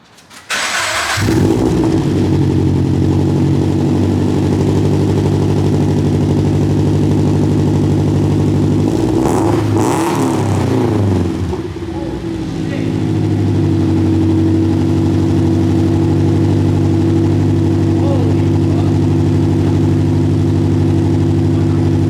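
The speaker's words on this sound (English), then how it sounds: "I'm gonna start the car with the car up in the air like this" A Subaru FR-S car engine with aftermarket headers cranks and catches while raised in the air, then settles into a loud, throaty idle with a deep, rumbling exhaust note that runs steadily throughout.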